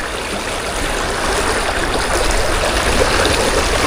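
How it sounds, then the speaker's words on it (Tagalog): Strong river current after a flood rushes past steadily, a loud, close, continuous broadband roar of flowing water with no talk. "Ang lakas ng current dito."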